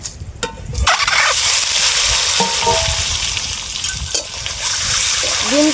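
Cut eggs drop into hot oil in a pan and fry with a loud, steady crackling sizzle that runs throughout, broken by a few clinks and stirring sounds.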